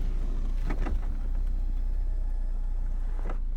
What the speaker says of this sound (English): Probably the quickest top to ever go down, which is pretty amazing.